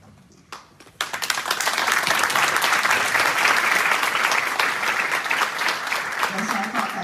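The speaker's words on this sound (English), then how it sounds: "I thought that deserved a round of applause" An audience at a formal address on democratic values in the Czech Republic bursts into loud, sustained applause that continues without a break, following a few isolated claps, with no speech over it.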